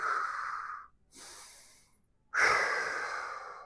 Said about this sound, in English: Breathe, breathe, breathe, breathe.